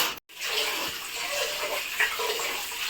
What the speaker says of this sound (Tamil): நான் வந்து அரிசி கழுவிட்டுருக்கேன்